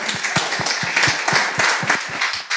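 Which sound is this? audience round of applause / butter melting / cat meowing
audience round of applause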